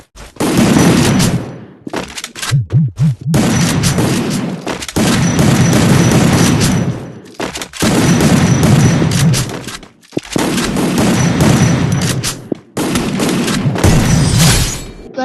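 Loud gunfire from the video game Free Fire comes as several long, dense bursts of rapid shots broken by brief gaps.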